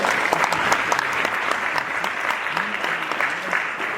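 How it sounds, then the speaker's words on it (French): Sustained, dense applause from an audience at a student breast-cancer awareness event in Nanterre, steady and fairly loud throughout with a faint murmur of voices underneath. "vous demande des tonnerres d'applaudissements pour eux"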